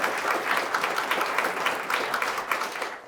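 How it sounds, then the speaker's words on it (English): An audience at a startup talk applauds a guest speaker, a steady crowd clapping with individual claps pulsing through at moderate loudness, easing off at the very end. "a big round of applause again for Louis Kolla from RUNNR"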